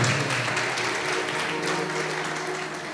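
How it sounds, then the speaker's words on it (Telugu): A crowd claps steadily at a Telugu Christian gathering, a dense continuous patter of applause held at an even level, with a low steady hum underneath. "గట్టిగా చప్పట్లు కొట్టాలి"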